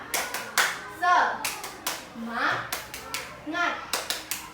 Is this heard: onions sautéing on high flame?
no